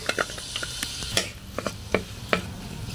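Onions dropped into hot cooking oil for tomato scrambled eggs with leeks, giving a soft steady sizzle under scattered clinks and scrapes of a utensil stirring in the pan.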